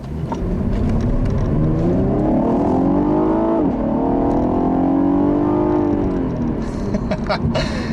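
A 2015 Cadillac ATS Coupe with the 3.6 V6 accelerates hard from inside the cabin, the engine note rising through the revs, dipping at a gearshift and climbing again, loud and close.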